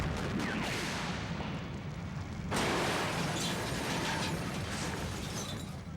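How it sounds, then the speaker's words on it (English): A cable car blows up in a staged film stunt on a cleared city street for The Rock, a broad, rumbling, crackling blast at a distance that swells abruptly partway through and keeps roaring with debris-like clatter. "After successfully completing the cable car explosion"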